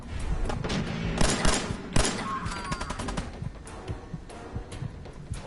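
Gunfire in the video game Fallout 4 during survival play, a rapid fusillade of sharp shots and booming impacts, loud and close, bursting irregularly throughout with a couple of heavier thumps.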